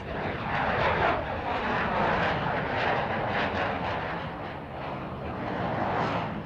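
F/A-18 Hornet jet making a slow, nose-high, high-alpha display pass at airshow speed, a continuous loud rumbling roar that swells and eases slightly as it passes, with no talk.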